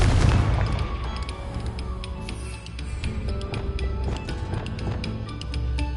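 Confringo fire spell blasts in the Hogwarts Legacy video game, booming impacts and crackling bursts within a dense combat mix of whooshes and effects, fairly loud, no voices.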